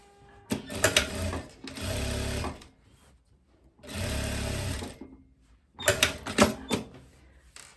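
A sewing machine stitches the pocket lining to the body of spandex trousers, running in four short bursts with brief pauses between them. Each run is close and steady.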